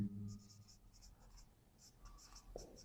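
Marker or chalk writing on a board during a maths lesson, a series of short scratchy strokes in quick bursts, fairly close and moderately loud, with a brief low voice at the start.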